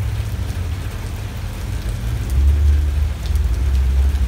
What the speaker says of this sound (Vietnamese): cơn mưa nặng hạt như thế này thì nó giảm đi cái thời tiết oi bức đó quý vị